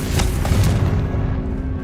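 A Confringo blasting spell explodes in Hogwarts Legacy, giving one deep, loud boom that rolls into a fading rumble, with no voices over it.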